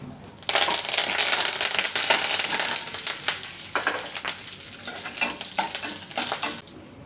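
Mustard seeds, urad dal, dried red chillies broken in two and curry leaves sizzle and crackle in hot oil, a dense, steady frying hiss with sharp popping bursts, close and loud throughout.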